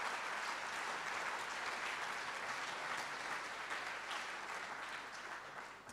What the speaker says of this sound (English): This is a moment to celebrate, so let's all clap